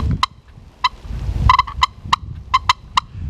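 Turkey hen calls used on a spring gobbler hunt: a run of short, sharp yelping notes, loud and close, spaced irregularly over a low rumble of outdoor background.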